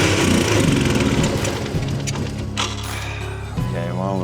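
An engine on a banned three-wheeler sputters and turns over amid a dense mechanical roar, uneven and close, fading slightly toward the end, with a voice speaking over it.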